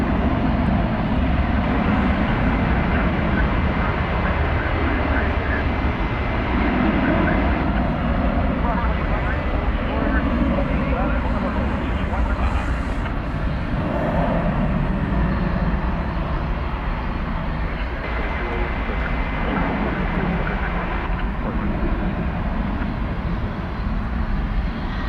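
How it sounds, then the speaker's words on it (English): At DFW Airport, a jet roars steadily during takeoff, a broad sustained rumble heard from a distance under ongoing nearby conversation. "this one is on a trajectory to go over to the east side for takeoff"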